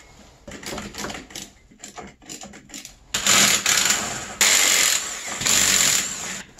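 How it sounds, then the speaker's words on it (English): Three stator bolts broken loose on an Arctic Cat ZR 600 EFI snowmobile with a rattling impact gun, loud close bursts of rapid hammering, short at first, then longer sustained runs. "Let's go ahead and break these three stator bolts loose."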